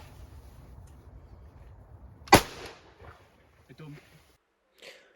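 A single sharp gunshot cracks out at a wood pigeon from a hunting hide, loud and sudden against quiet rustling, followed by soft movement and a faint distant call.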